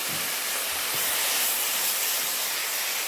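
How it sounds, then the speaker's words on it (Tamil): Sliced drumstick flesh fries in a pan, giving a steady, loud broadband hiss and sizzle that holds evenly throughout, with a few soft low knocks near the start and no voices. "நல்ல வடிவாக நாங்கள் இப்போ வறுத்தெடுக்க வேணும்"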